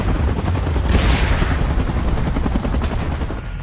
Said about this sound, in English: Evacuation measures. Chopper in position.